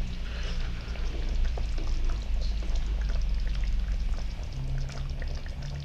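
Murrel fish curry (mural meen kuzhambu) simmers in a pot while being stirred, giving a steady close bubbling and sloshing with soft wet scrapes and no speech.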